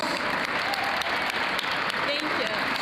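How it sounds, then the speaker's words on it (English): Dense, steady applause from an audience at an Immigrants' Day gathering at the State House fills the room, loud and continuous without letting up, with a few voices mixed faintly into the clapping. "Can we give another round of applause to our MC?"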